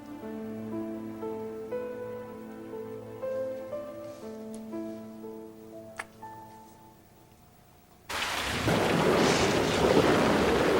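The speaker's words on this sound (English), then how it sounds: "The storm was at its height." Loud thunderstorm with dense, steady rain and rumbling thunder that bursts in suddenly near the end, after a stretch of quiet sustained tones.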